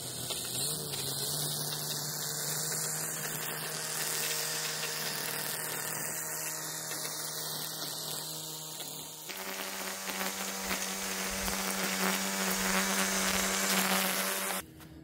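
A DEWALT battery-powered string trimmer runs steadily at close range with a high, buzzing whine, shifting pitch slightly partway through as the load changes, and no talking over it.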